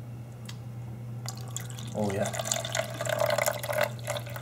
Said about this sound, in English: Let's get some delicious water in there.